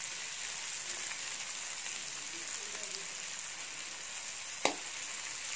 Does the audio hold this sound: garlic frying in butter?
yes